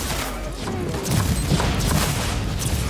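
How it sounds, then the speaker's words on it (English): An explosion in the video game Warhammer 40,000: Inquisitor - Martyr rumbles amid dense, continuous battle noise and gunfire, swelling louder toward the middle and staying heavy to the end. "did you see the nice little explosion there?"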